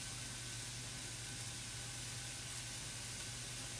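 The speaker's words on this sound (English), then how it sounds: "I want to kind of caramelize this tomato paste along with the onions" Tomato paste and onions caramelizing in a pan while making a homemade barbecue sauce for oven-baked spare ribs, giving a faint, steady sizzling hiss with a low hum underneath and no talk.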